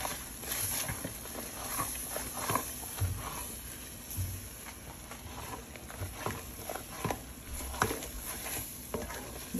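Flour stirred constantly in a pan over a high stove flame until fully dry, faint irregular scraping and tapping with a low hiss underneath.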